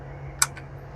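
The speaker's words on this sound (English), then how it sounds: "That's a failure to fire. Is that a soft primer strike?" A single faint, dry click as the hammer of a CZ Scorpion EVO 3 9mm falls lightly on a soft primer and the round fails to fire, followed by a slight second tick in a quiet room.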